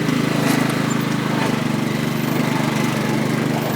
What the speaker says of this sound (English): Bring that lawnmower with us.